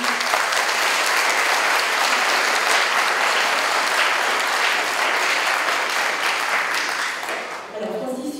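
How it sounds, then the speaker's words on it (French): Loud, sustained audience applause welcoming two guests onto a science talk show, a thick continuous roar of clapping that holds steady before tapering off at the very end. "Je vais vous demander de démarrer tout de suite en applaudissant très fort nos deux"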